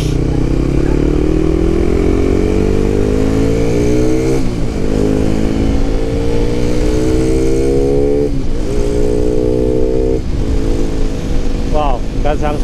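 A 62zz motorcycle with a quiet exhaust and freshly tuned fuel mixture rides close by, its engine note climbing smoothly through the gears, with brief dips at three shifts, loud and continuous throughout with no talk.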